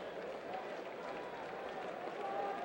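Baseball crowd at Yankee Stadium during a Mariners–Yankees game, a steady wash of cheering and murmur rising slightly toward the end, continuous and moderately distant.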